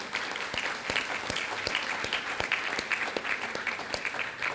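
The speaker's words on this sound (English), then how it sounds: "so give them a round of applause, please" An audience at a senior breakfast claps warmly, a dense, steady round of applause heard close throughout with no pause.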